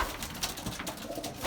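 A racing pigeon returning to its loft on the first 200 km old-bird race, with soft cooing and light fluttering sounds close by over a low background hum.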